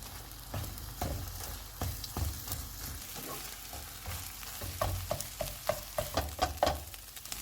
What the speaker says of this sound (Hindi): ऑयल गर्म हो गया, इसमें फेंटे हुए अंडे डालेंगे। जब अंडे थोड़े से पक जाएंगे तो इनको मिक्स कर लेंगे।